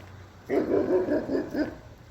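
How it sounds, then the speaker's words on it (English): A big dog barking, a short run of several deep, muffled barks in quick succession, moderately loud against a quiet room. "that's a big old dog"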